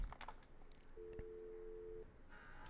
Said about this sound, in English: Let's just answer this phone, because I'm sick of hearing it.